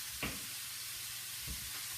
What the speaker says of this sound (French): tu laisses bien revenir la viande comme ça